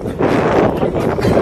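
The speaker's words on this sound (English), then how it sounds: "the wind's going" Strong gusts buffet the microphone outdoors, making a loud, continuous low rumble with uneven surges across the short stretch and no clear talk over it.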